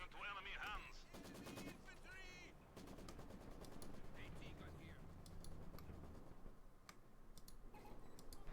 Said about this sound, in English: shot down there by the IS-2's pinned by machine gun